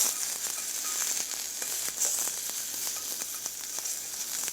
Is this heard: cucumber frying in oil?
yes